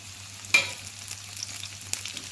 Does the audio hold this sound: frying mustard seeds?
yes